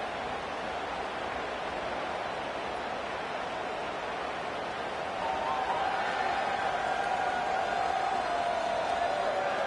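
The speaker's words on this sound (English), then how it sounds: "with this place rocking, the crowd forces a false start" A college football stadium crowd at a Penn State versus Texas A&M game roars steadily and densely, a loud, continuous wash of noise that swells a little louder partway through.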